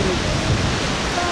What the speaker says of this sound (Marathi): विहंगम असे दृश्य सातारा ठोसेघर धबधब्याचे।